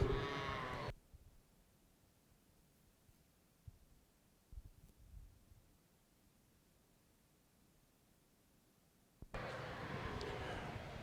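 Yearling Romney ewes bleat in a show ring, with loud, busy animal noise at the start and the end and a long quiet stretch of faint rustling and thumps in between.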